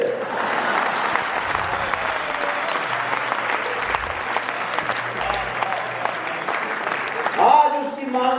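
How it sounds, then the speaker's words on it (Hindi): Audience at a Hindi comedy poetry show (kavi sammelan) breaking into sustained, dense clapping that fills the hall at a steady level for several seconds, with a voice briefly rising near the end. "ताली का पूरा सदन इस बात पे बजाएगा"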